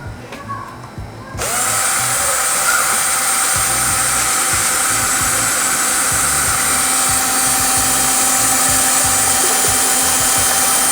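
An electric mixer or drill-driven stirrer churns a soap-based organic pesticide mixture after water is added, a loud, steady motor whine starting abruptly after a brief quieter moment and running continuously to the end.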